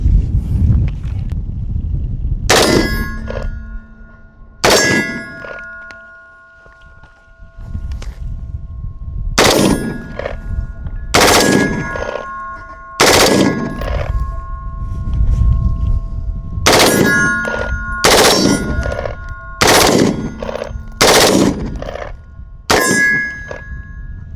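A rifle fitted with a Hoffman Tactical trigger kicker fires about a dozen loud, sharp shots outdoors. The shots come in irregular bursts and each ends in a metallic ring, with wind noise between the shots.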